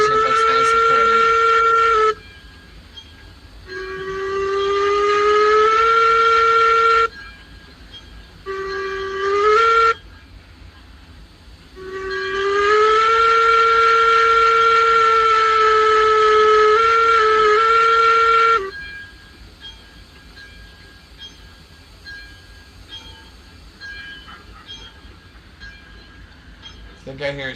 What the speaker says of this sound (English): I gotta stop my train